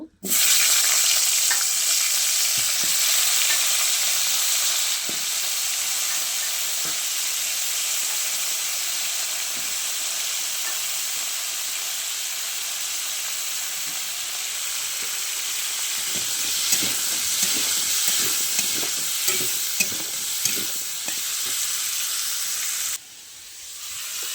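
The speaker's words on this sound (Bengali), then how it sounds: "এবারে এই তেলেতেই আমি ফুলকপি আর আলুটা একটু ভালো মতন ভেজে নেব।" Cauliflower and potato pieces frying in oil already used for fish, a continuous loud sizzle and hiss with occasional stirring clinks, cutting off abruptly near the end.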